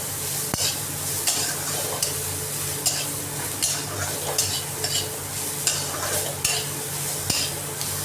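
Onions with salt are stirred in a sizzling pan for a bitter gourd curry, a constant frying hiss broken by regular scraping strokes of a spoon and an occasional sharp knock against the metal.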